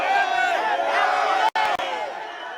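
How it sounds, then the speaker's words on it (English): Large outdoor crowd booing local political leaders, a loud sustained mass of jeering voices with a brief cut partway through. "Local political leaders who attempted to address the crowd were booed."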